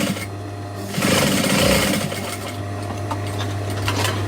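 Sewing machine stitching at a work desk, a steady close mechanical whir with a faint rapid needle tick that swells briefly partway through and then runs on evenly.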